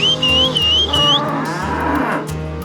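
Cattle moo repeatedly, loud and close, while being herded out of a boggy swamp, several long lowing calls overlapping in a steady rhythm with no talk.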